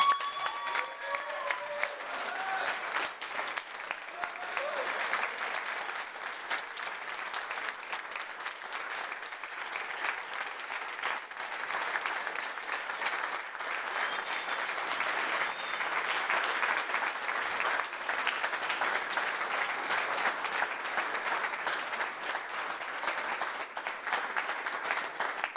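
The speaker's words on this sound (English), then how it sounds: "Let's give him a warm round of applause for Dona." A large event audience applauds steadily to welcome a $25,000 fitness transformation champion, with dense, continuous clapping that stays loud and even for the whole stretch and a few faint voices mixed in.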